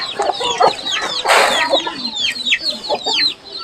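Free-ranging chickens cluck and chatter near the mic while pecking at pounded rice by a traditional hill village rice mortar, with overlapping calls, a short rustling burst midway, and constant background birdsong.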